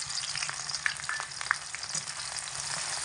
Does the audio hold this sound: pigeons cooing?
no